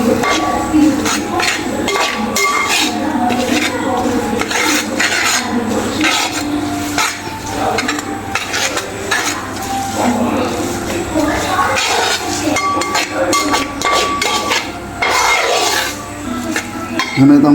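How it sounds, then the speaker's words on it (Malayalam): Spoon stirring fish pickle in a pan, a steady scraping and clinking of metal on the pan through the stretch, close and fairly loud with kitchen noise behind. "നമുക്കിതൊന്ന് ഇളക്കി കൊടുക്കാം."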